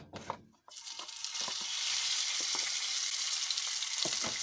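Beef drops into a hot pan with olive oil and bursts into a loud, steady sizzle that holds near and constant, with a few light clinks before it starts.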